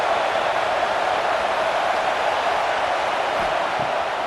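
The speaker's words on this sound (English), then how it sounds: "This dog crowd is off the leash, and they are coming after them, bringing noise on third down." A Georgia football crowd packs the stadium and roars on a third down against Ohio State, producing a dense, steady wall of hiss-like cheering and noise from many voices throughout, with no clear individual talk.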